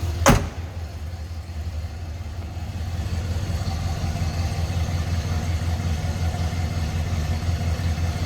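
A 1965 Buick Sport Wagon engine idles with a steady, low, even rumble close by, after a brief sharp click at the start.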